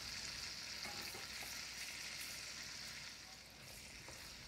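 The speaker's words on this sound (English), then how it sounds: "Right into this yummy bacon grease. And we're just gonna slightly brown the sausage up." Sliced smoked sausage browning in bacon grease in a pan gives a steady, dense frying sizzle with a few faint pops, close up and continuous, no talk.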